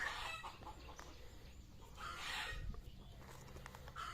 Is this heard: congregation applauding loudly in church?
no